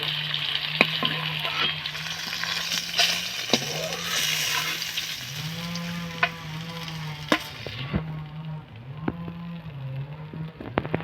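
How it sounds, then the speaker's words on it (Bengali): Rohu fish sizzles and crackles in hot oil with occasional pops and scraping stirs, while a low hum runs underneath. "দেখো কি সুন্দর লাল লাল করে ভেজেছি মাছগুলো"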